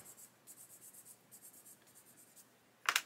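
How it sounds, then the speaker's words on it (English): A 400 grit sanding stick is rubbed over a plastic model part in quick, soft, rhythmic strokes, close and quiet, pausing briefly before a sharper scrape at the end. "We can get a 400 grit stick and just sand over until the marker pen disappears"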